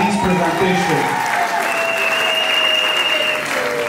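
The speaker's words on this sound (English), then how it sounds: "Can we clap our hands for this presentation?" An audience claps for a presentation at a celebration, a loud, dense, continuous round of applause filling the whole stretch, with a few faint voices and tones underneath.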